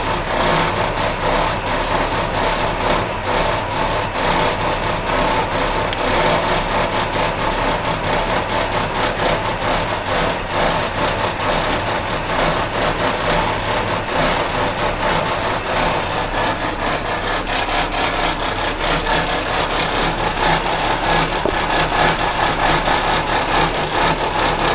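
An idling 283 Chevy V8 runs continuously, its dense, rough mechanical clatter carrying a steady rattle from somewhere around the frame, loud and close with no talking.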